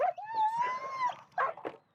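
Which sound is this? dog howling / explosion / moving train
dog howling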